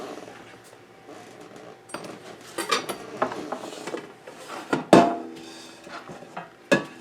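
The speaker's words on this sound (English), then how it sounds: "I'm just going to fill the air fryer basket" Sliced bread croutons tumble into an air fryer basket in a run of irregular knocks, rustles and clatters, with a few louder thuds against the basket, close up and without talk.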